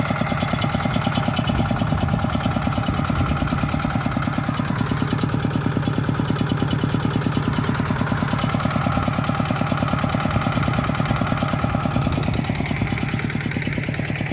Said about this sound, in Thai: เรากำลัง ติดเครื่องรอ พร้อมที่จะไถอยู่นะครับ